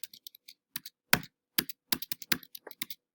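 Fingers tap a computer keyboard up close in short, uneven bursts of sharp clicks, with a few heavier keystrokes among the lighter taps and brief pauses between groups.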